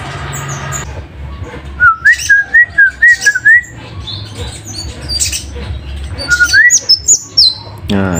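A sunbird sings in two bursts of high, thin whistled phrases with quick chirpy warbles, clear and fairly close over a faint background murmur.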